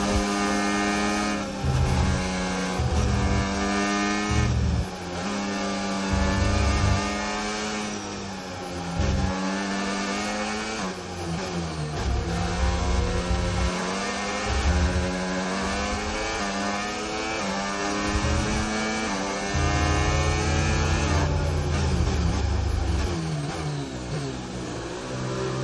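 An F1 race car engine in the video game F1 25 screams loudly during an overtake, revving up and down through gear changes with a continuous high-pitched whine.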